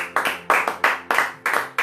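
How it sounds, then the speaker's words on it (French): A church congregation applauding for the Lord, with several loud, rhythmic claps of rounded beats repeating at a steady pace, close and without voices. "Est-ce qu'il y a quelqu'un qui veut acclamer pour le Seigneur?"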